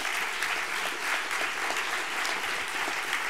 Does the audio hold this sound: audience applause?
yes